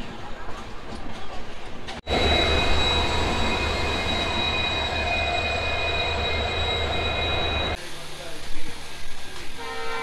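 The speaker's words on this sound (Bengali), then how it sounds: "ট্রেন আমাদের পুরী স্টেশনে অলরেডি ঢুকছে" The Garib Rath Express pulls into Puri station with a loud, sustained rumble of wheels and cars. Sharp high wheel squeals join in, and the din drops away near the end, leaving quieter platform sounds.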